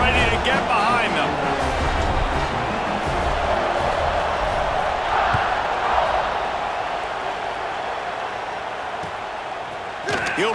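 Dense roar of a football stadium crowd during a Florida vs Alabama college game at kickoff, a sustained loud wash of cheering with a commentator talking over it.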